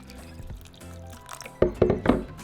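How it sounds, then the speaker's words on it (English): Water is poured into a pot holding tomatoes and chile de árbol, a short run of splashy, gurgling bursts arriving after a soft, quiet lead-in. "I'm going to cover them with water."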